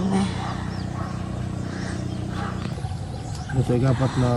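Many birds call outdoors in a dense, continuous chorus, with a louder burst of close, harmonic cries near the end.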